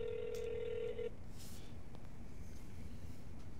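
A phone call rings out, a single steady electronic ring tone lasting about a second, faint and close, followed by quiet room hiss.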